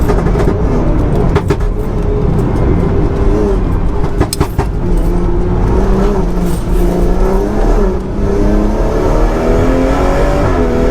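A tuned 510bhp BMW M240i accelerates hard on a race track, its engine loud and close with a rising, strained pitch as it revs through the gears and pulls steadily for several seconds.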